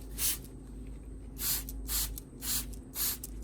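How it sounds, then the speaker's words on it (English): Four short hissing bursts of a hand sprayer misting an eggshell and rice solution onto an anthurium plant, evenly spaced and close, over a faint background hum. "When sprayed evenly across the plant"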